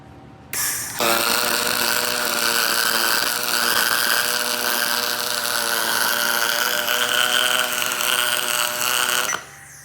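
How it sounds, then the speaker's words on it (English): A spool gun runs a continuous built-up weld on a 1/4-inch steel piece, a steady crackling buzz that starts abruptly, holds evenly for about nine seconds close by, then cuts off. "I'm gonna go and make a built-up weld on the 1/4-inch piece."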